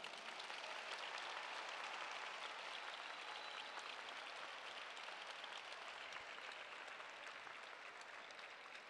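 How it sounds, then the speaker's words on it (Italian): Outdoor applause at a university graduation ceremony in a town square, honouring the graduates' families: a continuous, even wash of many hands clapping, fairly distant and steady throughout, with no voices standing out. "Un applauso per le famiglie."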